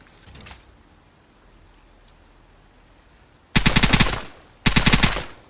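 Gunfire from the video game Vigor during a recoil test: two loud bursts of rapid automatic fire, each about a second long, following near silence with a brief faint sound at the start.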